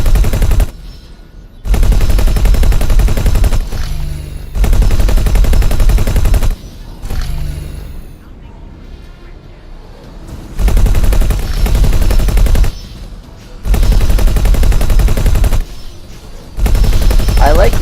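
Turret gunfire in the space game X4: Foundations, loud sustained bursts of rapid automatic fire broken by short quieter pauses, with a spoken voice underneath at times.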